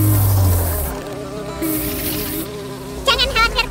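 A cartoon bee buzzes loudly and steadily, a close insect drone that wavers in pitch, with a brief flurry of chirpy higher tones near the end.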